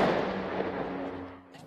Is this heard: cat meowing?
no